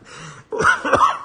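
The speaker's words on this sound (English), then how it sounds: "that made me cough" A single cough bursts out after a short quiet breath, close and fairly loud, with a couple of rough, throaty pulses much like clearing the throat, during a solo card-game session.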